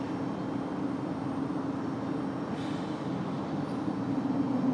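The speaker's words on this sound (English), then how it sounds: "Got a Breeze Airways making their way out here. An A220-300." Breeze Airways Airbus A220-300 taxiing at Raleigh-Durham airport, a steady distant engine whine and broadband roar held at an even level throughout, with no voices.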